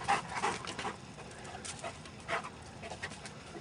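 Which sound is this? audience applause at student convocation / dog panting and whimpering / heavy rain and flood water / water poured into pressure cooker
dog panting and whimpering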